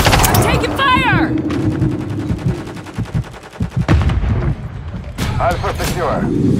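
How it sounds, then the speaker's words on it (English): Gunfire in Call of Duty: Modern Warfare III multiplayer: loud, rapid automatic bursts and scattered single shots crackle throughout, mixed with in-game radio voices and explosions. "We're taking fire."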